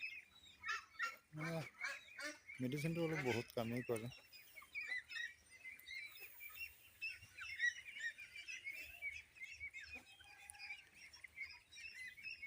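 Flock of white Pekin ducks on a duck farm at dusk, keeping up a busy quacking and honking chorus throughout, with someone speaking close by near the start.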